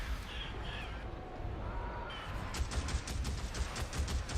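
Rapid gunfire bursts crackle in the Days Gone video game, starting after a quiet, eerie stretch and repeating in short, sharp volleys at fairly low volume.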